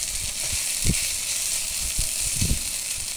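Vegetables and taro stolons frying in oil with onion, garlic, dry and green chilies give a steady, close sizzle and hiss throughout, broken by a few soft low pops and stirring knocks.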